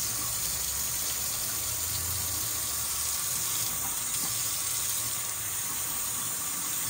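Excess hot water poured off from soaked insect specimens, a continuous gushing, splashing stream that runs steadily and close throughout with no talk.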